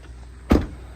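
A truck door opening as someone climbs out, a single short clunk of the latch and door against a quiet cab background, close and fairly loud.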